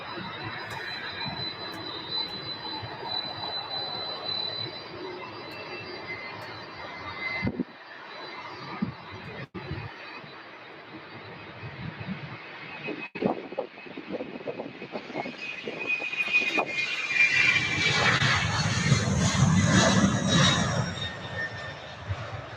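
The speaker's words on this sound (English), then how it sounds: "And that is our UPS A300 going out to Denver." A UPS Airbus A300 jet takes off from Louisville airport bound for Denver, its engine roar building steadily to a loud, broad rumble near the end and staying steady without voices.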